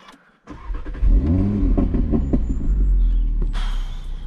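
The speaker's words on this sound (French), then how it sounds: "Je vais vous la démarrer, écoutez-moi ça." A 2017 Audi S3 engine is started close by. The starter whirs briefly, the engine catches with a loud rising flare, then it settles into a steady, throaty idle that continues to the end.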